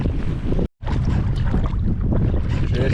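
Strong wind buffets the microphone while kayaking in western Ireland, a loud continuous roar with one brief dropout.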